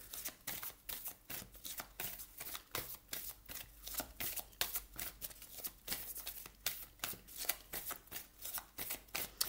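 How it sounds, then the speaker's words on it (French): A deck of tarot cards is shuffled over and over, the quick riffling bursts coming in a steady, close, fairly quiet rhythm with no talking. "si le brassage est un petit peu long pour vous"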